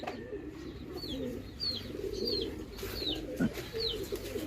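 Low, soft cooing from several pigeons fills the background, with a few faint higher chirps above and a brief louder flutter near the end.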